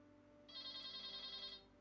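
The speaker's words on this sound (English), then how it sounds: "Somebody pick up that phone, please." A phone's electronic ring starts partway in and holds steady and fairly loud for about a second before fading, over a constant low hum with no talking.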